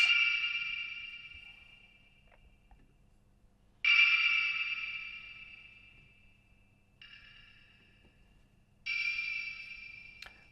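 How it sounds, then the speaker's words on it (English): Bright, tonal percussive hits sent through an Eventide Temperance Lite plugin with dub-style delay repeat and ring out in long decaying tails, four separate bursts spaced across the passage with quiet gaps between; no voices. "Create some nice dubby effects."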